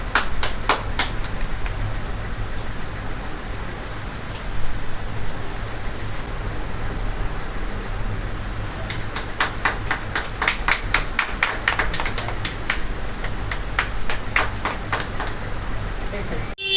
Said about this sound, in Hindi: सर का जोरदार तालियों के साथ स्वागत किया जाए।